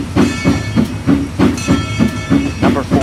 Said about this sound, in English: Number 14 gets turned around and takes the train back.